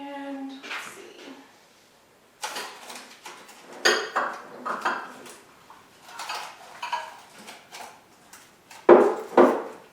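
Bowls and dishes clatter and knock in a home kitchen during cooking. The handling comes in a series of irregular close clinks and thumps, with a sharper clatter near the end.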